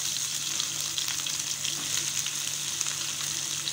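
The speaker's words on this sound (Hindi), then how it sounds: "पैन वच्चिरुक्केन अदु एण्णै ऊत्तिरुक्केन अदुल कोंजम सोम्बु पारुंग सोम्बु पट्टै पोट्टिरुक्केन" Fennel seeds, cinnamon and onion frying in oil in a pan, a steady close bright sizzle that holds evenly throughout with a faint low hum beneath.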